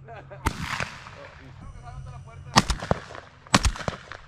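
Three sharp shotgun reports ring out during a dove hunt outdoors, the first and last two spaced about a second apart, loud and close, with people talking excitedly in between.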